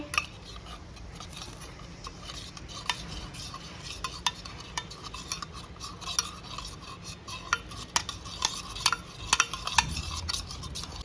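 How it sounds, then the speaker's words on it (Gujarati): A spoon stirs yogurt into tikhari chutney in a metal pan, scraping and clinking irregularly against the sides over a faint sizzle, close and moderately loud with no talking. "હવે આને આપણે હલાવવા માંડીએ."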